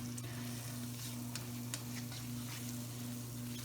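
Onions sizzle in butter in a pan for an egg and onion pie, with a steady, soft hiss broken by scattered small crackles and no talking.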